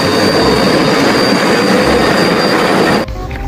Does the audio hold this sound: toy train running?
yes